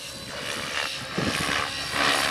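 A radio-controlled 3D helicopter flies aerobatic upright-to-inverted moves, its rotor whine and whooshing blade noise steady and continuous, swelling slightly as it passes, with no talking.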